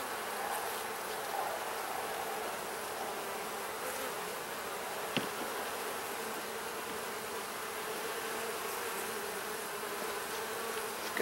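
Honeybees buzz steadily throughout a hive inspection, a dense, continuous drone close by with no talk over it.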